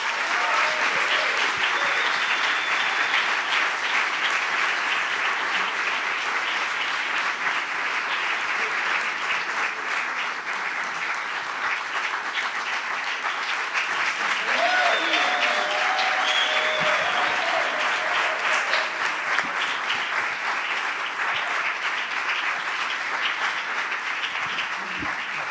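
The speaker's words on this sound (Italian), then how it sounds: "io vi chiedo un grande applauso per l'ospite della puntata numero 145 di Tintoria" A studio audience at a comedy talk show gives a long, sustained round of applause welcoming the episode's guest, loud and even throughout with cheers woven in.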